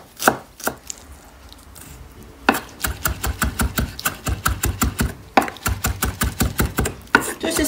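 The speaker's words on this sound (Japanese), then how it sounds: "これを細切りにするんですけれども、私のやり方はぐるぐると丸めて、そして切っていきます" A knife chops through rolled-up, washed parsley into thin strips on a cutting board: a few isolated knocks, a short pause, then a steady, quick run of close, crisp chops.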